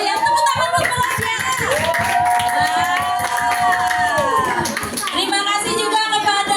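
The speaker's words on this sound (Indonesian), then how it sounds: "Tepuk tangan buat mereka." A school Christmas event audience claps for tambourine dancers, with steady crowd applause running throughout and excited children's voices and shouts rising above it.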